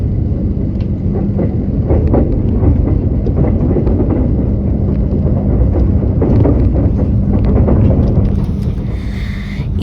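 A continuous low rumble fills the space, steady and loud, inside a moving night train on the Argo Lawu route to Kutoarjo, with faint rattles over the drone.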